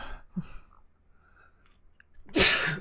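A single loud, close sneeze bursts out near the end, preceded by a few soft breaths and mouth sounds.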